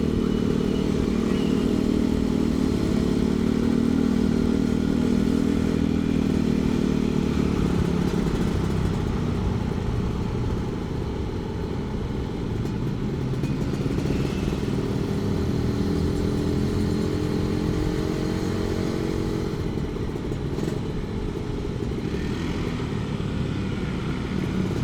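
Suzuki Satria two-stroke motorcycle on a town street at night, its engine revving and droning loudly and steadily close by, with pitch rising and falling through the gears and other traffic mixed in.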